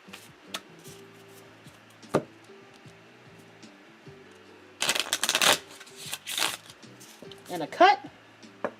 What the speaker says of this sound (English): One more full shuffle.